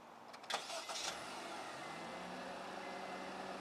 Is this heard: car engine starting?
yes